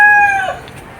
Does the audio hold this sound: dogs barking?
no